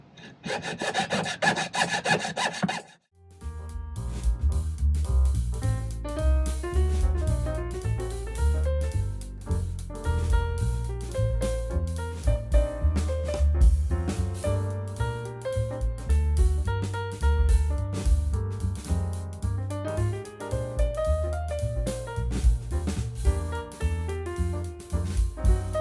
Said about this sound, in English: I guess we'll just go saw those out and see how it ends up